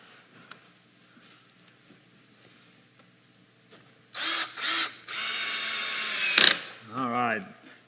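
A power drill whines in several loud bursts as it drives pocket screws into a glued edge of a wooden mantel, at first in two short pulses and then in one long sustained run, after quiet workshop room tone.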